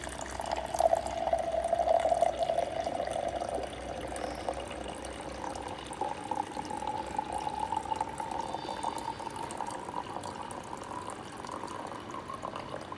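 Water pours steadily into a Philips breadmaker pan for a white bread loaf, a continuous close trickling fill that rises slightly in pitch as the pan fills, with no voices.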